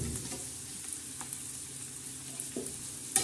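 Green chili and garlic thecha being stirred into frying greens, a continuous close sizzle with soft stirring scrapes, no talking.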